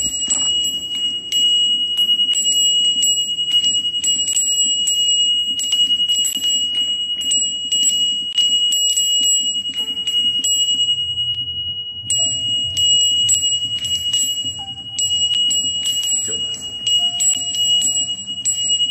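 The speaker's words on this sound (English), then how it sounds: "Doll ringing bell and shaking." A possessed-looking doll in a box rings a small bell while shaking, giving repeated bright metallic tinkles in irregular bursts over a steady high electronic tone and low background hum.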